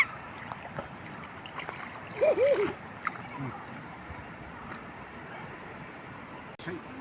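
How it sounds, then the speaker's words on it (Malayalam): River water flowing steadily on a rainy day, with a brief burst of splashing in the middle over the continuous rush of the current; voices are heard faintly in the background. "ഇവിടെ നല്ല ഒഴുക്കുണ്ട്, കുറച്ചാണെങ്കിലും"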